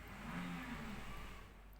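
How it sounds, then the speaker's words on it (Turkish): Street traffic from outside drifts in through open windows of a room where crochet baby garments are being made, a steady, fairly faint broadband road rumble with a low hum running throughout, no voices. "Dışarıdan da araba sesleri geliyor."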